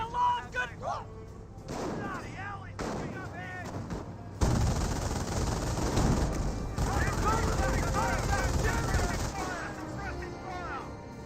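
Sniper and rifle fire during a Company of Heroes battle, with sharp gunshots and a dense stretch of battlefield gunfire and explosions after a pause, over brief game voices.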